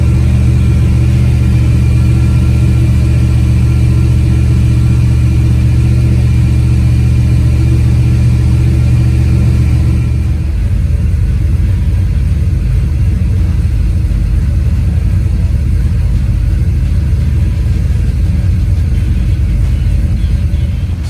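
Turbocharged LS V8 swapped into a BMW E36 cranks and fires up, then settles into a loud, steady rumbling run close to the microphone with no talking.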